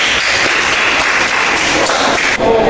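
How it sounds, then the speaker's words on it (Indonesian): A classroom of students applauds a student group, loud, close, continuous clapping from many hands that holds steady throughout. "tepuk tangan dulu untuk kelompok satu"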